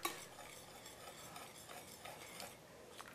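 Butterscotch pie filling with vanilla stirred in a pot, a quiet, steady scraping and swishing of the spoon with a light bubbling undertone, no voices.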